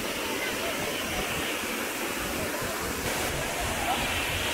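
Savdav waterfall in Konkan, swollen with reddish muddy water after heavy rain, makes a dense, steady rushing roar that fills the air without a break.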